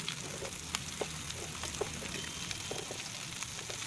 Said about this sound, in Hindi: मीडियम टू हाई फ्लेम पर इन्हें फ्राई करना है।